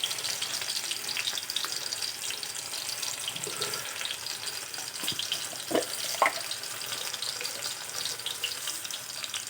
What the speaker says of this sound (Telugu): ఇది ఉల్లిపాయలు వేస్తున్నానండి.